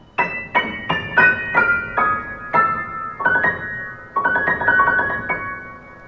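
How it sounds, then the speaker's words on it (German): High piano keys are played in a light, bright sequence of separate struck notes, each ringing briefly, with no talking over them. "hier klingen die Tasten ganz, ganz hell."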